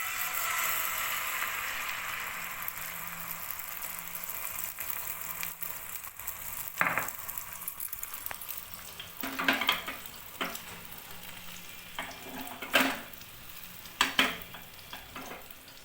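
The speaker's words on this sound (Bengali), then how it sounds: "এবার এই তেলের মধ্যে আমি এই ডিমের মিশ্রণ কিছুটা" Egg mixture frying in hot oil in a pan for a breakfast dish, a low continuous sizzle with a few louder scrapes and crackles toward the end.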